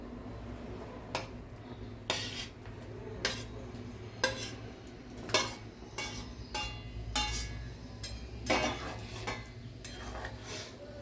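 Fried paneer, capsicum and onion go into bubbling gravy in a kadai for dhaba-style kadai paneer, with a dozen or so sharp metal clinks and scrapes of a spoon against the pan over a quiet, low simmer.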